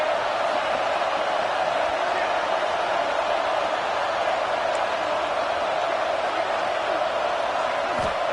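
Steady, dense stadium crowd roar at an Ole Miss versus South Carolina American football game, with no pauses, a constant wash of many voices that holds at an even loudness throughout.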